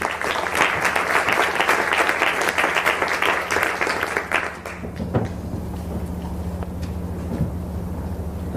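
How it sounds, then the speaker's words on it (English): Audience at a climate event applauds a youth delegate, a loud sustained round of clapping for about five seconds that fades into a quieter room with a low hum. "So please give her a big round of applause as well."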